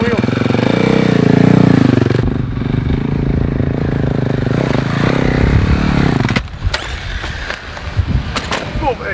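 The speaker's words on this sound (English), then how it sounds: "What's it like being back on your super enduro, Trent?" Loud engine roar from an enduro motorcycle riding over a dirt ramp, then the engine cuts to scraping and clattering, with people talking over it.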